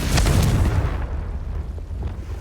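A Confringo fire spell explosion in Hogwarts Legacy, one loud close boom with a low rumbling burst that decays over about two seconds.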